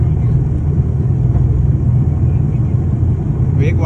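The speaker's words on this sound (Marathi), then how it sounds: "सोलापूरहून गोव्याला जाणारे पहिलं विमान उड्डाण घेत आहे" A passenger airplane accelerates down the runway for takeoff on a first flight from Solapur to Goa, heard from inside as a loud, steady, low engine roar and rumble without a break.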